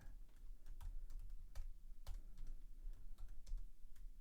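Steady keyboard typing with crisp, irregular key clicks and a few sharper taps, close by with no voices.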